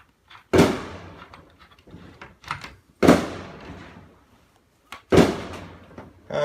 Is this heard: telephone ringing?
no